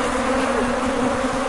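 Honey bees (Apis) hum at a hive after being moved out of a high termite mound, a dense, continuous buzz of many insects, close and steady throughout with no voices.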